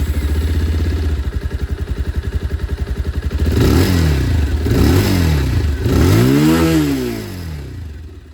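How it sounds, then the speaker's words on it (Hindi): Bajaj Pulsar 220F motorcycle idles with a fast, regular exhaust putter, then the throttle is blipped three times, each rev swelling loudly and dropping back to idle. "तो जो एग्जॉस्ट साउंड है वो भी आप लोग सुन लीजिए।"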